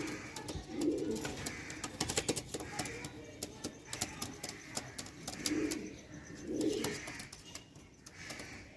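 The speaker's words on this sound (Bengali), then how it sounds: "দেখতে পাচ্ছ কি করছে পায়রাগুলো।" Fancy pigeons for sale, heard up close: several low, soft coos rise and fall at intervals over light tapping and rustling from the birds.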